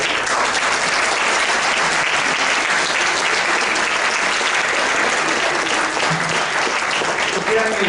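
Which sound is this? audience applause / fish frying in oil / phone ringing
audience applause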